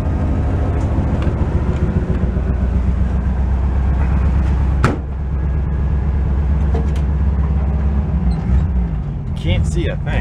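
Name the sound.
barn find VW bus engine running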